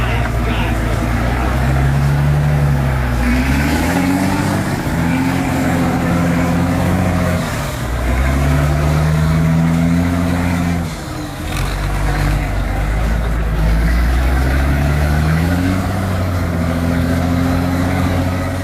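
An off-road Ural 450 truck built in the GDR drives along a slippery track, its engine revving up and down in repeated surges, loud and close, with someone narrating over it.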